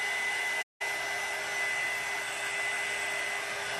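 A handheld craft heat tool for embossing blows with a loud, steady whir and hiss close by, cutting out for a split second before resuming evenly.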